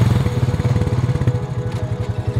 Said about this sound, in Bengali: মোটরটিতে স্টার্ট দিয়ে উল্কা বেগে ছুটিয়ে দিল তার ঘরের দিকে।